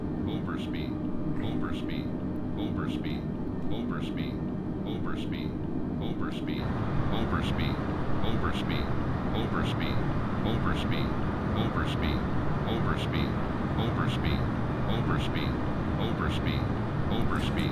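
An Airbus airliner in Flight Simulator 2020, flying toward Kallinge, gives a steady, loud broadband roar of engines and airflow that holds for the whole stretch, with a faint regular ticking above it.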